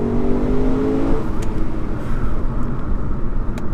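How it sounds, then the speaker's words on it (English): A Lexus RC F engine downshifts with a loud, rising rev and a steady roaring drone, heard close up. "listen to that downshift"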